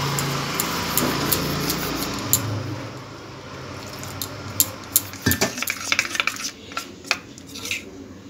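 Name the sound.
mixing fish fry batter with water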